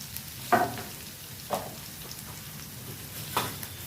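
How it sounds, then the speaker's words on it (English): Flat beans (avarakkai) frying over low heat in a pan, with a soft continuous sizzle and a few distinct tossing or stirring swishes spaced about a second or two apart. "Toss this all a bit, just for a few minutes. Keep the stove at low at all times."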